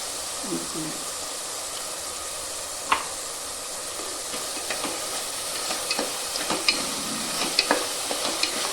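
Ginger garlic paste sautés with onions in a pan for a chicken gravy, producing a steady soft sizzle broken by occasional light clicks and scrapes of stirring.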